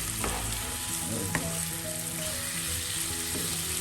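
Goat liver with pepper stirred in a hot pan, a steady close sizzle of frying with a few sharp scrapes and clacks from the spoon against the pan, no voices.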